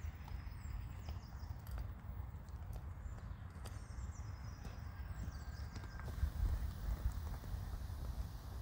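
Horse hooves clip-clop at a trot across a riding arena, a soft, faint, regular beat of footfalls under low background noise.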